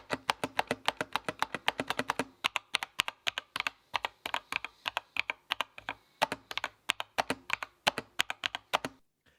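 Rapid, crisp mechanical key clicks from an Epomaker EP64 keyboard tap out a steady typing rhythm, close up and alone, with a brief pause partway through.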